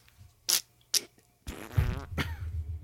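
A person vocally imitates fart noises: two short sharp bursts followed by a longer, sputtering, wet-sounding raspberry, all close and fairly loud with no other talk.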